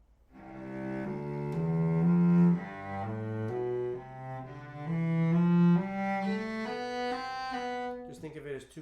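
A cello plays a slow line of eight separate notes within a single bow stroke, the pitch stepping up and down in a steady pulse, a repeat of the figure following, alone and clear, ending in a brief scrape.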